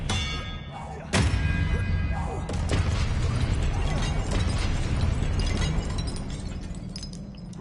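Expelliarmus spell from Hogwarts Legacy, a sudden burst at about one second that rolls into a dense, sustained rumbling crackle of magic and combat noise, with no voices.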